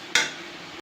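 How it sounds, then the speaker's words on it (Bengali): Spiced potatoes seasoned with salt being stirred in a pan for an egg dish: one short scraping stir near the start, followed by a soft, steady sizzle. "আর একটুখানি নেড়ে"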